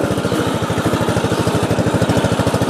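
A racing lawn tractor engine runs loud and close, a steady rapid buzzing putter with an even pulsing rhythm and no pauses.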